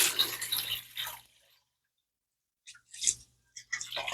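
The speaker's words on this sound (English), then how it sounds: "All right, so we're going to pour this through here and just hope that this doesn't fall off." Homemade apple cider made from apple scraps and cinnamon sticks, poured through a strainer: a soft, close splashing trickle that stops, then brief drips and splashes return, faint and without talk.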